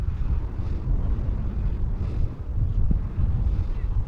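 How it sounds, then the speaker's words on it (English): Steady gusts of wind buffet the microphone beside a neighborhood pond, a dense low rumble that holds loud and continuous with a brief dip partway through. "here come the wind"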